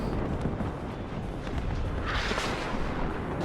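HE bomber bombs exploding in the WARNO wargame, a continuous rumbling roar of distant blasts with a brighter burst partway through.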